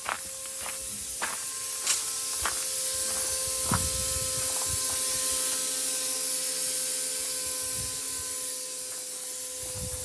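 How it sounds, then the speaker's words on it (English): Air escaping from an untightened fitting on an air bag suspension, a continuous close hiss lasting throughout, joined by a few sharp clicks and knocks near the start. "That fitting where we let the air out of the airbag never got tightened."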